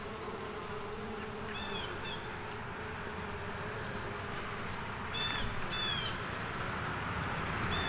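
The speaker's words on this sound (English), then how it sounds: "So check out all the bees on this buckwheat." Bees buzz steadily over buckwheat flowers in a market garden, a continuous close drone with occasional louder passes, while faint bird chirps sound in the background.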